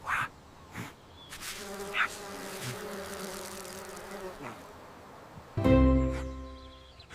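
Cartoon bee buzzing steadily and close for several seconds, its droning hum rising and falling, followed by a louder low thump near the end.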